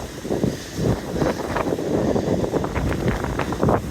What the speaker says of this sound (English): Trying to shield from the wind as much as I can, but it got even windier down here